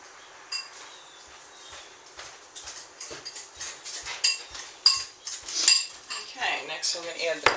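Corn fritter batter of flour and other ingredients stirred in a bowl with a utensil, producing irregular clinks and scrapes that grow louder and busier toward the end, close up.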